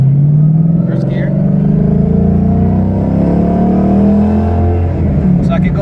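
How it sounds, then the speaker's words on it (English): A Ford Mustang with a T56 gearbox and 4.10 gears pulls hard in first gear at full throttle, its engine droning loud and near as the revs climb steadily throughout. "So I'm gonna put it to the wood up here and see how fast I can go in first gear."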